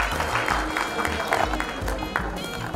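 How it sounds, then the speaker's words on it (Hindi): A crowd at the Delhi God Gift Ratna Award 2019 event applauds for children, producing a steady wash of clapping throughout that never pauses. "हो सके तो एक बार ताली उन बच्चों के लिए बजा सकते हैं जो आपके लिए उपस्थित है।"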